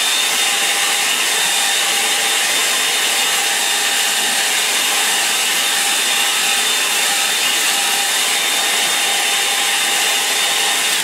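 A hair dryer blows steadily on a wet watercolour painting of rising river mist, a loud, continuous airy roar that holds unchanged the whole way through with no talk.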